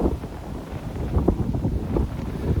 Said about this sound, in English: Gonna be a little windy for the next couple of seconds